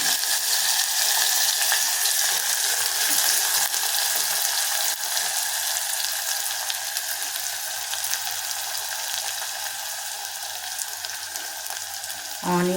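Onions and green chillies fry in a pan with a steady, bright sizzle that holds evenly for about thirteen seconds, close up and continuous, with a faint clink near the end.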